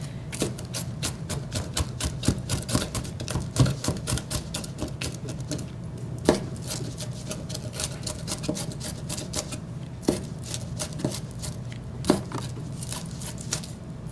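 A knife mincing an onion on a cutting board, with rapid, steady chopping taps running throughout and a few sharper knocks standing out, close and fairly quiet.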